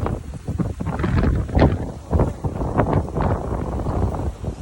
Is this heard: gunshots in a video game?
no